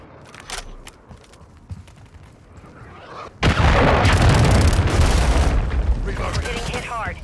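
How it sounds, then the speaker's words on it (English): Cruise missile explosion in Call of Duty: Modern Warfare III, a sudden loud blast after a quieter stretch of game sounds and voice, followed by a sustained roaring rumble of debris and fire that slowly fades. "Hostile launched your cruise missile."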